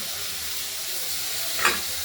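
A small tomato fries in a pan for a fish curry, giving a steady hissing sizzle close by, with one brief stirring scrape near the end.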